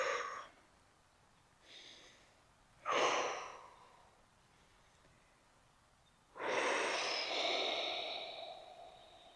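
Slow, deep breaths during a shoulder stretch, three or four broad airy inhales and exhales spaced several seconds apart, close and fairly soft, with the last long breath the fullest.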